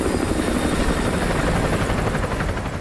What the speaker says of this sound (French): Un hélico ennemi patrouille dans le périmètre.